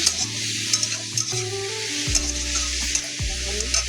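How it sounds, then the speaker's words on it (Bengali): Red amaranth greens being stirred in a frying pan, a steady broad sizzle with scraping spatula strokes recurring every second or so, close and alone without talk. "সমস্ত শাকগুলো দিয়ে একটু নাড়াচাড়া করে নেব"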